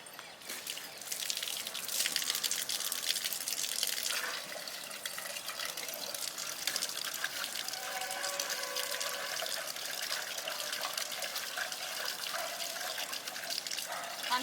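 Water pours steadily over cleaned fish as they are rinsed, a continuous close gush and splash with no break.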